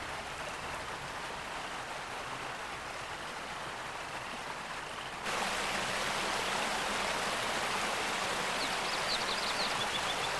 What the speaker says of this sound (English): by the bank of a turbulent river